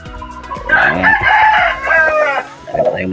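A rooster crows nearby, loud and drawn out, followed by shorter clucking calls from the same bird, with faint background noise and no talking.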